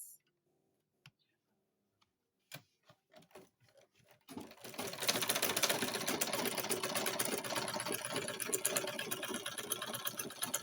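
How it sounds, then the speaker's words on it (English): A sewing machine stitches down fabric edges, starting with a few scattered clicks and taps, then running steadily in a fast, continuous mechanical whir close by. "I ensure that the edges are equal. And then I sew down."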